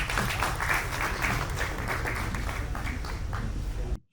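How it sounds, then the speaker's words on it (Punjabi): Sustained audience applause welcoming a speaker at a Punjabi short film festival, dense and steady clapping from a crowd that holds evenly for about four seconds before cutting off abruptly. "ਤੁਹਾਡੀਆਂ ਜ਼ੋਰਦਾਰ ਤਾੜੀਆਂ ਦੇ ਵਿੱਚ ਬਾਲ ਮੁਕੰਦ ਸ਼ਰਮਾ ਜੀ"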